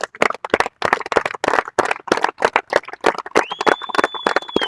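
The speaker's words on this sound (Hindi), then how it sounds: "सब खिलाड़ी एक बार खड़े होकर तालियां बजाएं।" Cricket players stand and applaud at a gathering, sharp close claps in bursts mixed with a few voices and a brief whistle-like tone near the end.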